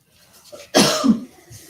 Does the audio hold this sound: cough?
yes